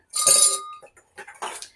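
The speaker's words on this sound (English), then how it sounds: "I'm gonna put some ice in." Ice cubes dropped into a cocktail glass for a 1912 Hoffman House Fizz, a bright ringing clatter followed by a few smaller clinks and knocks, close and distinct in a quiet room.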